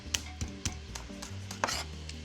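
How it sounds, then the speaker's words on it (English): A knife chops garlic cloves on a cutting board for chicken tinga, with about eight to ten crisp, quiet taps in an uneven rhythm over soft rubbing between strokes. "I'm gonna chop 2 garlic cloves."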